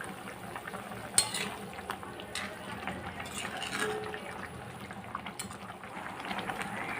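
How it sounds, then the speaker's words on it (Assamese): A pot of sour curry with fiddlehead fern greens and freshly squeezed lemon juice bubbles at a steady simmer, a faint, continuous low bubbling and crackle with no talking. "আকৌ পুনৰ ভাল ধৰণে উতলিবলৈ দিছোঁ।"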